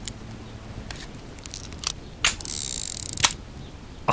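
A .44 Magnum revolver in the survival game Subsistence gives a short run of crisp mechanical clicks and ratcheting, with one sustained whirring spin and sharp metallic snaps, fairly quiet and without talk.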